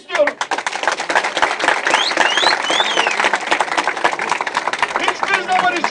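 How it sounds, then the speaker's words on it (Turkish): Crowd at a village meeting in Turkey applauding, a dense, sustained wash of many hands clapping, loud and close, with voices mixed in beneath. "Hepsini de tebrik ediyorum ve bir alkış istiyorum."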